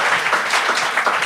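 A comedy show audience claps in a short, steady burst of applause lasting just over a second.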